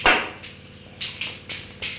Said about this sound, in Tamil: நல்லா குட்டி குட்டியாக நறுக்கிக்கலாம்.